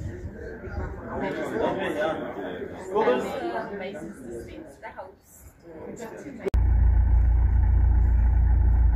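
A Peugeot car heading home on a road in the Potterrivier area after a Peugeot club outing gives a steady, loud, low engine and road rumble. Before that, voices chatter and the rumble sits under them.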